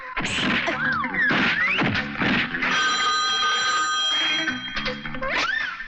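An old-style telephone bell rings repeatedly in loud bursts, with clattering thumps mixed in, close by.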